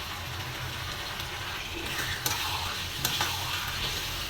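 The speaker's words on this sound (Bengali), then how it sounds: "মাংসগুলো সব ঢেলে দিই।" Meat tipped into a pan of sizzling fried spice paste, a loud dense sizzle that swells as it hits the oil, with a couple of sharp stirring clatters, no one speaking.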